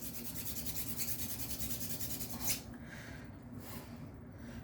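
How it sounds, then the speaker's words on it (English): A P90 magazine is sanded by hand with steady, rhythmic rasping strokes, close and fairly quiet. The scraping stops partway through, followed by a brief scuff and then softer rubbing, with no talking. "Just sand it until you pretty much get everything all the way gone."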